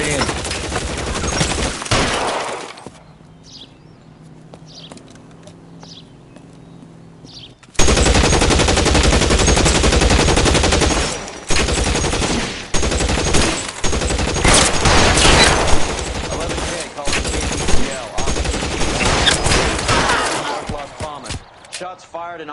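Rapid loud gunfire in the game L.A. Noire, dense automatic bursts and single shots firing close, broken by a quieter lull with faint ambience before the shooting resumes in heavy volleys.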